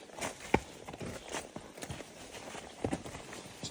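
Foxtrotter mare walking a trail, her hoofbeats giving a close, steady clip-clop in an uneven gait, with one sharper knock partway through and the faint rustle of the ground beneath.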